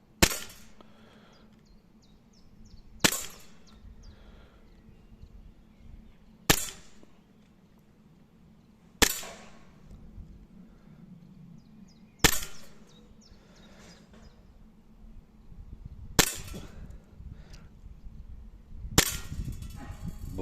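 Cybergun Glock 17 4.5mm BB pistol fired seven times at a target five metres away, sharp cracks spaced a few seconds apart over a low steady background hum.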